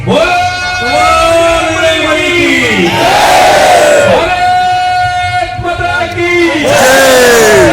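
A large crowd packs a village fair (yatra) wrestling ground in Chandur, making a loud, dense, continuous din of shouting voices with tonal, wailing sounds rising and falling over it throughout.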